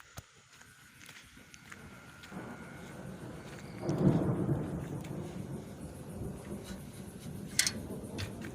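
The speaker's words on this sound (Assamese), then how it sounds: "পুৰা বিজুলী মাৰিছে এইপিনে বৰষুণ দিছে" A low thunder rumble rolls in and swells over steady rain, with a faint patter continuing throughout.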